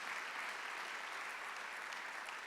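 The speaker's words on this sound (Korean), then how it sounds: "얼마든지 하나님의 이름을 존귀하게 할 수 있다고 믿으시면 박수를 하나 주세요" A church congregation at a Sunday worship service breaks into loud, dense applause, a steady wash of clapping from many hands filling the whole stretch with no voices over it.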